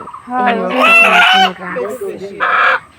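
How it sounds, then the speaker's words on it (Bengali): An old farm rooster, kept for slaughter, gives a loud close crow followed by agitated clucking squawks in short bursts, with brief human voices mixed in. "এখানে মোরগ কাটা হবে, কারণ এই মোরগটা নাকি আমার ভাইয়া আমার জন্য রাখছে"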